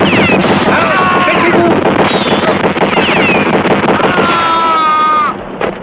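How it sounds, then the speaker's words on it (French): Rapid bursts of automatic gunfire from a boat rattle loudly over wind and water noise, with whistling tones and busy action sounds throughout, in an action film. "les coups de feu viennent du bateau"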